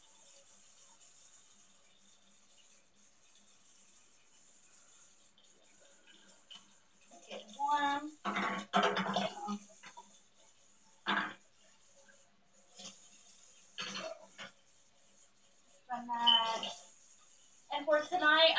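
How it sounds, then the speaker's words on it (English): Running water fills a bath for a baby monkey's bedtime, a soft steady hiss from a tap under the clatter of handling, with a few louder splashy bursts near the end. "I'm going to run his bath."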